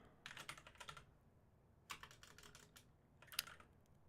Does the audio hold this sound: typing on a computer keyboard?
yes